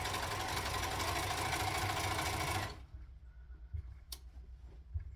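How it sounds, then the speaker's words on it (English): An overlocker serges a sleeve seam in a fast, even mechanical whir that runs loud and close for under three seconds, then stops abruptly, leaving quiet handling knocks and one sharp click. "Basically, we're going to overlock every single seam before it crosses another one."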